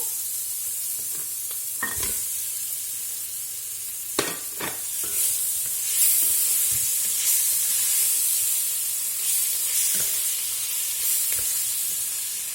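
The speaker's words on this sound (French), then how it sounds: "Et maintenant, on va mettre les oignons." Onions being stirred into a hot pan while making a budget couscous from leftovers, giving a steady loud sizzle with scraping stir strokes and a few sharp clicks, close by and with no voices.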